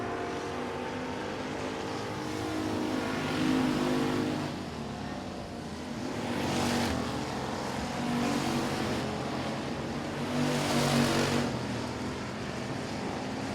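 Race cars lapping a dirt speedway track during a heat race, engines swelling and fading in repeated waves as the pack passes, loud and sustained with no one talking.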